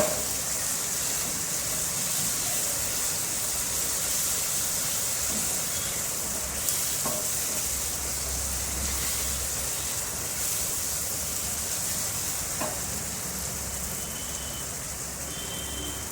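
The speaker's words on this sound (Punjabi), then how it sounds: "ਤੜਕੇ ਨੂੰ 2 ਮਿੰਟ ਵਾਸਤੇ ਹੋਰ ਆਪਾਂ ਭੁੰਨ ਲਵਾਂਗੇ" A constant, even hiss of tempering spices frying in oil before lentils are added continues throughout, with a few faint clicks and a low rumble partway through.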